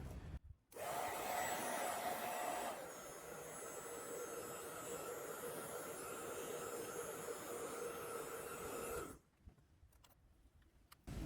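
A heat gun runs steadily on the plastic cover of a Meta Quest 2 left controller, a loud continuous blowing roar for about eight seconds that shifts pitch slightly partway through, then cuts off to near silence.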